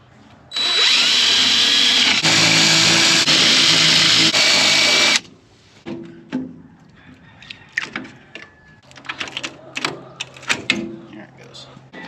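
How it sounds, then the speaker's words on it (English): A power drill whines loudly for several seconds drilling out rivets on an aluminum stock trailer, then stops, followed by scattered clinks, clatters and handling noises close by. "it's just a matter of drilling these out and it'll pop right off of here"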